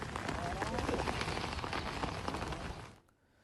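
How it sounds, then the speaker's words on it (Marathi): Heavy monsoon rain pours steadily in Ralegaon taluka, Vidarbha, with a dense, continuous hiss of drops on surfaces that stays loud and close before cutting off abruptly near the end. "आज सकाळपासून राळेगाव तालुक्यात जोरदार पाऊस सुरू आहे"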